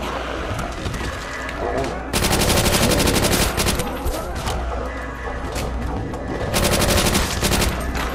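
A Thompson submachine gun fires in the Nazi Zombies video game in two loud sustained bursts of rapid automatic fire, with someone talking over the shooting and game noise between the bursts.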